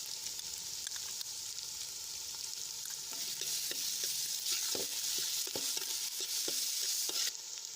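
Onions sauté in a pan for a Gujarati dish, a steady bright sizzle and frying hiss running throughout, with scattered clicks from stirring and the spoon touching the pan, no voices.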